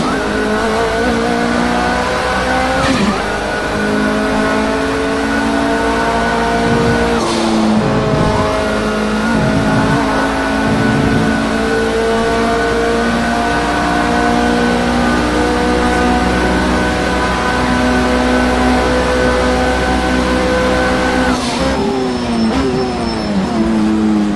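Nissan R89C Group C race car screaming around Spa in a racing game: a loud, sustained high-revving engine whine that climbs through the gears, with sharp shift breaks near the start and again near the end. No voices.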